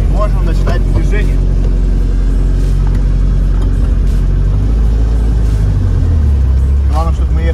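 An armored UAZ Bukhanka cash-transport van idles with a loud, steady low engine rumble, then the pitch shifts as it begins to pull away, with someone talking over the drone.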